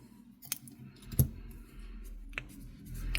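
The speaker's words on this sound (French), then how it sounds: "je vais couper le fil" Scissors snipping yarn during a crochet Christmas decoration project, a few quiet separate clicks and snips close by in a hushed room.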